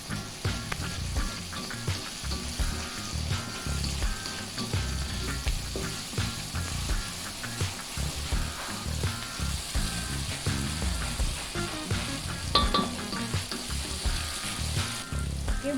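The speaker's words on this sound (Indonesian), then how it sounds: "Kita tumis sampai harum." Chili spice paste with chili, onion and bird's eye chilies sautéing in a pan for a sweet-spicy shrimp dish, a steady close sizzle broken by frequent scraping stirs, with no talking.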